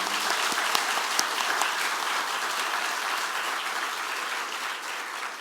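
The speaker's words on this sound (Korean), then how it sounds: "우리 진심으로 한번 박수 올려드리면 좋겠습니다." A church congregation applauding together, a sustained wash of many hands clapping at an even, fairly loud level that tapers off slightly toward the end.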